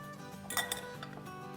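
Strained almonds dropped into a blender jar in a kitchen, a brief cluster of light clinks and a small rattle against the jar, faint and quick.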